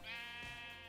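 A single sheep in a flock in the video game Minecraft gives a short, nasal bleat, quiet and without talking.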